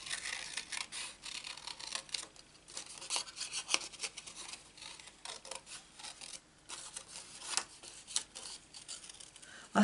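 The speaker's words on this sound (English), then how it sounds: "I'm going to cut the flower out. The easiest way to cut this out is to go round it in a circle." Scissors snip around a paper flower in a papercraft project, a faint, close run of irregular crisp cuts and rustles with short pauses between them.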